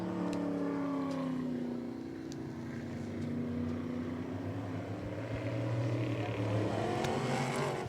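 A race car circles the track at Hudson Speedway, its engine note rising and falling in long sweeping pitch changes as it passes, moderately distant and continuous.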